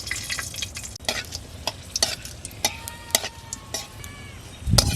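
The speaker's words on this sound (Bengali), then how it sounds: "তেল গরম হয়ে গেছে, কয়েকটা মরিচ ভেজে নিচ্ছি, শুকনো মরিচ" Dried chilies frying in hot mustard oil, with sharp crackles and sizzling pops spread irregularly, plus stirring scrapes and occasional soft ticking sounds, close by.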